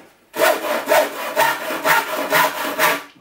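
A hand saw cuts across a piece of timber in about eight even, rhythmic push-pull strokes, close and loud, with no talking.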